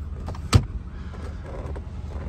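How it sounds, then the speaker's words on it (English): A power antenna on a 1993 Cadillac Coupe DeVille gives a sharp click, then a soft electric motor whirs steadily as the mast rises. "Power antenna goes up as it should."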